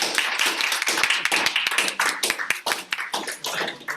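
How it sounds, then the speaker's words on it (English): A small audience claps for an interview guest, a close, fairly loud patter of hand claps that runs unevenly and loosely rhythmic, with no talk over it. "Then I think it's time for a round of applause for you."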